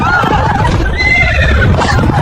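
A horse whinnies loudly and up close, a long wavering neigh with a harsh rising and falling pitch over a dense, noisy background of street sound.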